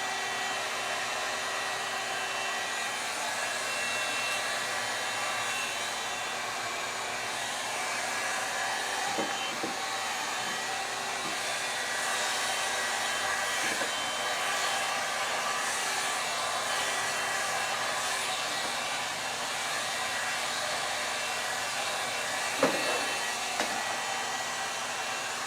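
Hair dryer blowing warm air over a curled wig during a trim, a steady, moderate whoosh with a faint motor whine that runs continuously, broken only by a few soft clicks and one small knock near the end.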